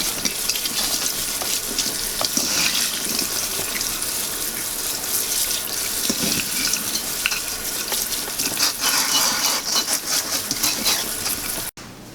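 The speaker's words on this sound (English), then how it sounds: "I'm going to rinse them off, make sure they're all nice and clean before we move on to the next step." Tap water runs steadily over freshly harvested pine tips held in a metal strainer, a continuous hissing splash with some clatter and no talking.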